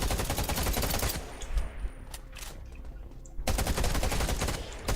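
Rapid automatic gunfire in the survival shooter Undawn, loud bursts of dense repeated shots at the start and end with a quieter gap between.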